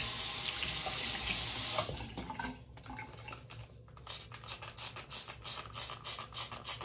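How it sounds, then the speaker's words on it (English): Tap water runs steadily into a kitchen sink during cleaning, a loud hissing flow that drops and turns more splashy and uneven partway through, with no talking. "So today we're cleaning out my sink."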